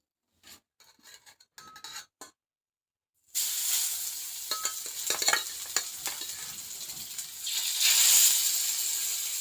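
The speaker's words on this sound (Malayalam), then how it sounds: "അപ്പോൾ ഞാനിത് എന്തായാലും മീനൊന്ന് വറുക്കാനായിട്ട് വെക്കട്ടെ കേട്ടോ" Fish fries in a pan in a home kitchen. A few faint clicks and rustles come first, then a bright, crackling sizzle begins and holds steady, swelling slightly toward the end.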